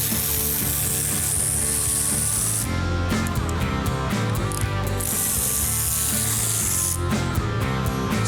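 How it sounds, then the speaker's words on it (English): A ratchet wrench clicks steadily while undoing the bolts that hold the third member, or differential pumpkin, of a 1971 Plymouth Cuda 340 convertible in a shop. The clicking is loud and continuous, with bursts of fast ratcheting. "now I'm going to undo all the bolts that hold the third member in place"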